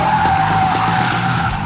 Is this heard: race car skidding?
yes